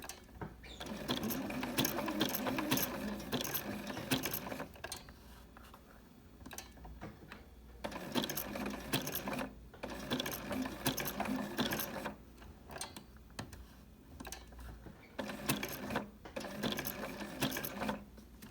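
A sewing machine stitching a twisted candy cane rope coaster runs in a steady mechanical whir with a fast ticking rhythm. It comes in long stretches broken by brief pauses, with the motor hum underneath.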